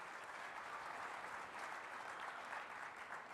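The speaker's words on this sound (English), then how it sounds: "Y'all can clap for that." An audience at a men's summit held at the BET Experience claps in a dense, steady wash of applause, many hands at once sounding fairly distant and even throughout.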